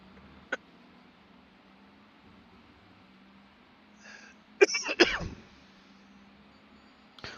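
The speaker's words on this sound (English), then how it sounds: "There's a cough, but that's okay." A short cough and a burst of throat clearing cut sharply through a steady low hum during the Sebring 12 Hour endurance race, with a faint click earlier.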